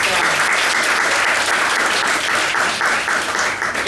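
A comedy club crowd in Russia claps on cue, dense continuous applause from many hands filling the room, loud and sustained throughout with no pause.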